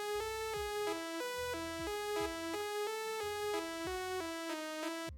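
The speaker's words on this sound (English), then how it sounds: "It's more like an ARP-ish, but ends up sounding like this." An arpeggiated synth counter melody for an EDM/trap beat steps through bright, evenly spaced notes in a repeating pattern over low pulses, quiet and without voices.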